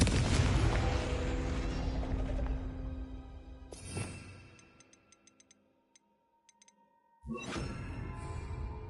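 A Confringo fire spell from the Hogwarts Legacy video game on PS5 bursts loudly at the start, with a dense blast that decays into crackles and scattered ticks, falls nearly silent, then a second burst erupts near the end.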